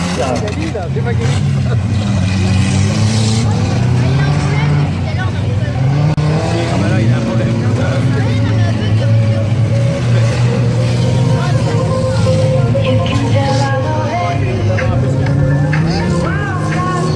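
Stock cars roar off at the start of a speed heat at a dirt-track meeting in Saint-Cybardeaux, a loud, continuous wall of engine noise with a commentator talking over it throughout.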